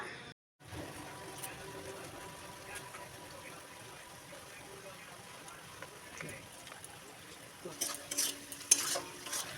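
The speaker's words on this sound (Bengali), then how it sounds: "এখন একসঙ্গে মিশিয়ে নেব মশলার কাঁচা গন্ধ চলে গেলে ভালো ভাজা হয়ে গেলে মশলা থেকে তেল ছেড়ে এলে" Biryani masala with ginger-garlic paste, rose water and kewra water stirs and fries in oil in a pan for egg biryani, a steady low sizzle under scraping, louder clatter near the end.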